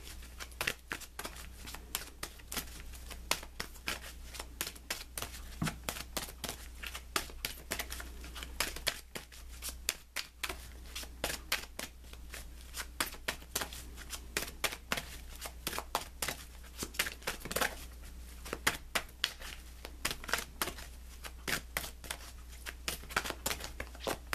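Tarot and oracle cards are shuffled close up, soft papery riffles and flicks repeating in a steady pattern over a low background hum, with no talk.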